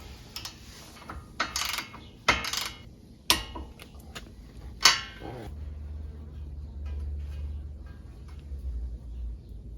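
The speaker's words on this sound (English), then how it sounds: "We're going to have to tighten it to 40 foot-pounds." Tie rod end nut on a Honda Pilot tightened with a torque wrench to 40 foot-pounds: a short run of close ratcheting clicks and sharp metallic ticks, then a low steady rumble.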